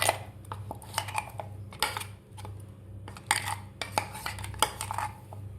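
A spoon scrapes ground green moong paste out of a mixer jar into a bowl, giving a run of close, irregular metallic clinks and scrapes with brief pauses between strokes.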